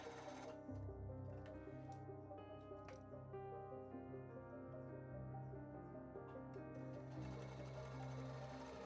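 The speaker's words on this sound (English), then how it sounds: "Two passes on the sewing machine, maybe 4 if you want to reinforce everything" A sewing machine runs steadily, rapidly stitching a fabric face mask, its mechanical whirring close up with brief pauses and restarts.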